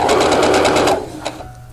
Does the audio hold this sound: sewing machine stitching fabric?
yes